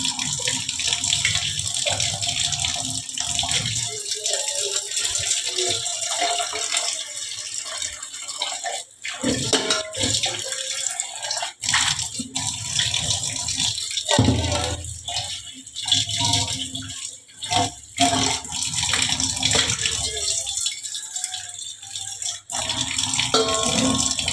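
Water splashes and swishes as a washbasin is scrubbed by hand, an irregular stream of sloshing and rattling bursts with short pauses, close and continuous.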